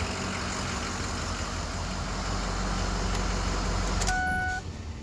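A Ford F250 truck engine idling steadily with a constant low rumble, close and fairly loud, easing down slightly near the end.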